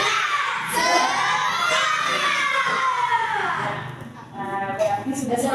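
Schoolchildren in a classroom shout a rhythmic spirit clap chant (tepuk semangat) together, a loud, bright crowd of young voices with clapping that fades briefly near the end.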